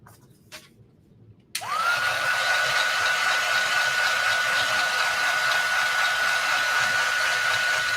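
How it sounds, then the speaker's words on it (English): A handheld craft heat tool, used to heat set stamped ink, clicks on after a short quiet moment and then blows with a steady, loud whirring hiss and a constant whine that continues to the end. "I'm going to heat set it. So let me grab my heat tool."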